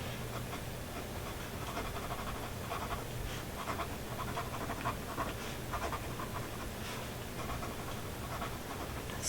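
Fast scratchy strokes of a fountain pen writing quickly on paper, close and faint, with irregular bursts of scribbling and no speech.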